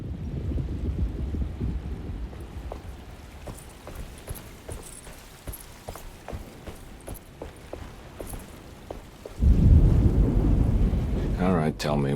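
A thunderstorm builds in the video game Alone in the Dark. A low distant rumble runs under a string of light rhythmic clicks, then a loud, deep roll of thunder swells near the end.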